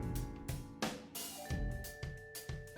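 Dense orchestral game soundtrack piece from Musashi: Samurai Legend, with sustained tones and repeated percussive hits, loud and continuous with no talking.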